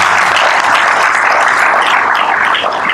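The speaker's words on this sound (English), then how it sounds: "Please clap hands for the British Institute" Audience applause for the British Institute fills the room, a steady, dense wash of many hands clapping together at an even loudness throughout, with no talking over it.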